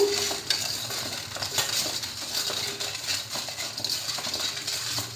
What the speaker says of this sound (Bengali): পটলটাকে একটু ভালো করে নুন হলুদ দিয়ে মাখিয়ে নেব।